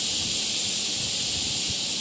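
Loud, steady hiss of steam venting from a pressure cooker boiling meat, a constant bright rush without pause.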